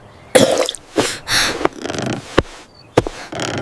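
A feverish child with measles coughs in a series of irregular, harsh bursts, about six separate coughs with short pauses between them, close and fairly loud.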